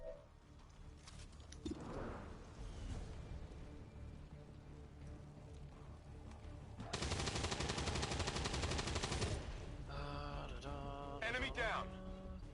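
Automatic rifle fire in XCOM 2, with a long, dense, rapid burst of shots in the middle over steady background battle noise, followed by shorter bursts and metallic tones.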